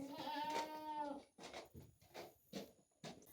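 A dairy goat in a goat barn lets out one long, loud, wavering bleat, followed by softer scattered bleats and shuffling noises in the pen.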